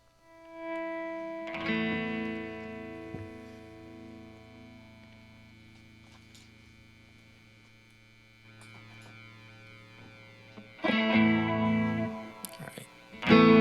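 An acoustic guitar just taken off a capo is retuned, with single plucked strings and sustained notes ringing out one at a time, followed by louder strummed chords near the end, over a faint mains hum.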